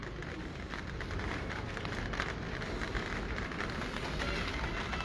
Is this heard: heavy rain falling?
yes